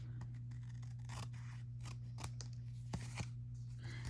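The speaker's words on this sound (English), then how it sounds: "And then I'm going to take my scissors" Scissors trimming paper for a handmade Valentine card give a few crisp, close snips over a steady low electrical hum, with no talking.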